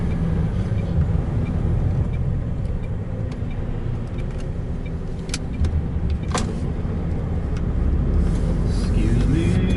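A 32-tonne lorry grinds uphill on a road in a continuous low rumble, with traffic noise around it and faint voices in the background.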